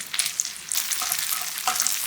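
Spaghetti tossed in chili oil sauce in a hot pan, with close, bright sizzling and a few quick scraping tosses.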